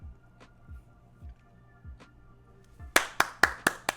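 Canned applause sound effect fired from a Stream Deck button during a LEGO building stream, a short burst of a few sharp claps that comes in suddenly after quiet low thumps and tapping.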